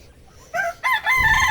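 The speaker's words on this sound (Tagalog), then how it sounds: "Tawag, ayun, manok ng kapitbahay." A rooster crows nearby, a loud two-part call rising and then holding, standing alone against a quiet background.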